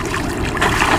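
Splashing and rushing of very cold snow-fed mountain water in Himachal Pradesh as a person dunks into it, a loud continuous wash of water with no speech.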